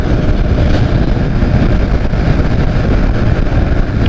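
A modified Vespa scooter with an aftermarket CDI and a lightly tuned engine on a morning ride, heard as a loud, continuous engine drone mixed with heavy wind rush close to the microphone.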